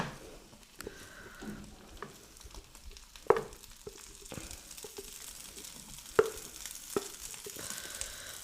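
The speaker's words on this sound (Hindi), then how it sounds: "अब यहाँ पे जो हमारा आलू था जिसको हमने मैश करके रखा था, इस स्टेज पे हम इसके अंदर ऐड कर देंगे" Mashed potato stirred into a hot spiced pan with turmeric, giving a steady soft sizzle broken by occasional scraping knocks of a spoon, close by and moderately quiet with no voices.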